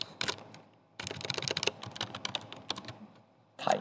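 Typing on a computer keyboard, with quick, light keystrokes in short irregular bursts, close and fairly quiet, and no talking.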